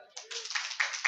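A church congregation at a Good Friday service claps in quick, uneven bursts, fairly close and lively, lasting just over a second.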